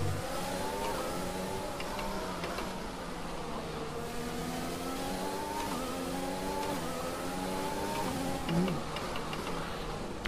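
Race car engine in the F1 2020 racing game, with the motor near failure, whining steadily through gear changes and rising and falling revs, loud and continuous, with a voice talking over it.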